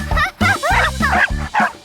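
A cartoon dog in a children's educational animation gives a run of loud, close, yappy barks, about five quick voiced bursts with bouncing pitch that sound voice-acted.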